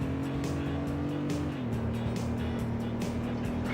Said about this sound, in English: Don't want to flip the car while using the handbrake there.